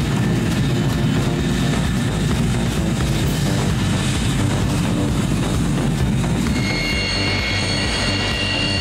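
An early Soviet jet fighter on its first flight roars with a loud, steady, broadband engine sound that stays constant the whole time, close and unbroken.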